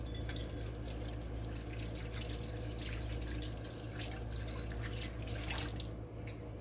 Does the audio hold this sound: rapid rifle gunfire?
no